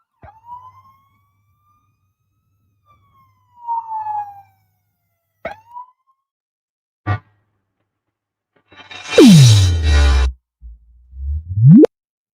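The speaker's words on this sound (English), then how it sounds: "here's a siren." Siren sound effects played from a sound deck: several short whoops and electronic chirps separated by silences, ending in a loud rising and falling wail.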